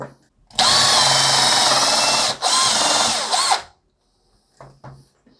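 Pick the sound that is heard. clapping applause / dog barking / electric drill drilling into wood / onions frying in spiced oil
electric drill drilling into wood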